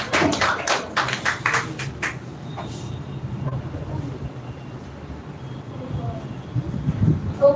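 An audience at a speech competition event claps for the next speaker, a burst of close, rapid hand claps for about two seconds that quickly fades into a quiet hall murmur.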